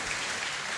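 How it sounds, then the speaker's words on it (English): Dense, steady applause from the audience at a hackathon event, a brief continuous wash of many hands clapping with no voices over it. "Again, let's give them a round of applause"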